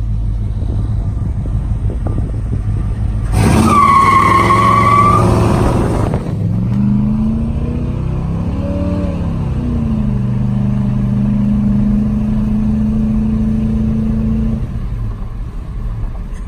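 A lowered short-bed 1985 Chevrolet C10 pickup revs loudly and climbs in pitch, then drops back to a steady, throaty idle-like rumble as it turns around, the engine close and dominant throughout with no talking.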